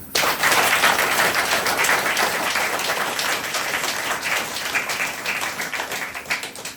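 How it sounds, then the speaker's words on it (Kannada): A crowd at a meditation gathering gives loud applause for Patriji, a dense, sustained wash of clapping that holds steady for several seconds before thinning slightly. "ಬ್ರಹ್ಮಶ್ರೀ ಪಿತಾಮಹ ಪತ್ರಿಜಿಯವರಿಗೆ ಜೋರಾಗ ಚಪ್ಪಾಳೆ"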